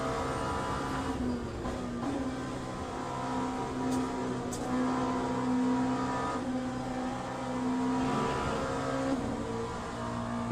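Hypercar engines in the Le Mans Ultimate racing game drone loudly and steadily, their tones rising and falling as cars pass, over a continuous engine hum with no talk.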